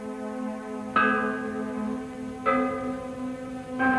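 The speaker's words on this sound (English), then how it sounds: "And so we have this effect of 2 notes in one bell." Ancient bronze bell struck three times at steady intervals, each strike sounding two tones with rich sustained overtones that ring on between hits, fairly near and clear.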